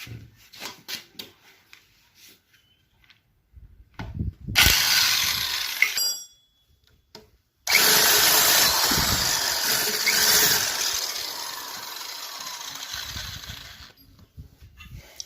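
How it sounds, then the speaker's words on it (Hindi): Bolts are removed from the end cover of a 2 HP, 1500 RPM single-phase induction motor being taken apart for rewinding: scattered metallic clinks, then two long, loud bursts of ratcheting, squealing tool noise close by, with no talking. "अब यहाँ पर भी 4 बोल्ट दिए हुए हैं, चारों बोल्टों को निकालना है।"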